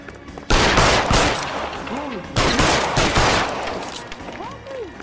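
Gunfire in the video game L.A. Noire, loud close bursts of rapid shots in two sustained volleys with a gap between them, ringing echoes after each, and game voices in the background.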